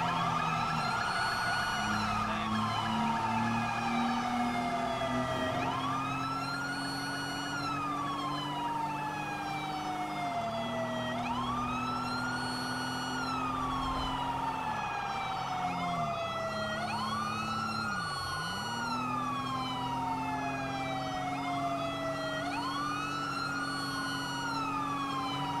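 Several wailing emergency sirens rise and fall in overlapping sweeps, loud and continuous over steady traffic rumble.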